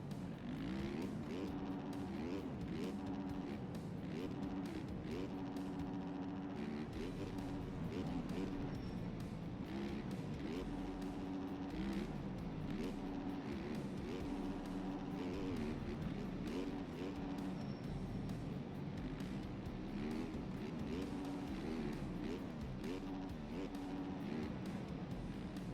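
Motocross bikes run racing laps in the MX Bikes video game, producing a faint, continuous buzzing engine whine that rises and falls steadily throughout.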